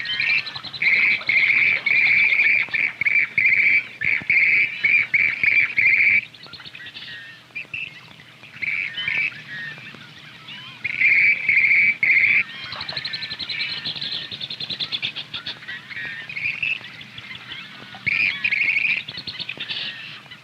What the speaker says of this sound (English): As these cries begin rising from all over this area of the marsh, the pitch of excitement among the grebes increases.